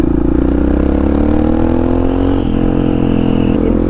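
A Honda XR650R supermoto motorcycle engine roars loud and close on a ride, a continuous throaty drone whose pitch slowly shifts and dips as the throttle changes.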